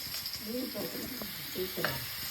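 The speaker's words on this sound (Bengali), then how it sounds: "চলে একদম ভাজা হচ্ছে" Aubergine frying in hot oil, a soft steady sizzle with light stirring sounds under a quiet voice.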